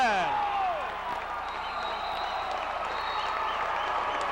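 A crowd at a 1993 high school boys basketball game between West and Concord cheers and applauds after a slam dunk, a loud steady roar of voices and clapping with a commentator's voice briefly at the start.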